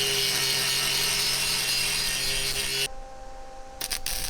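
A power grinder grinds primer off scrap steel for a wood-burning barbecue grill, giving a loud, steady high whine that cuts off near the end and leaves quieter handling noise and a few short clicks.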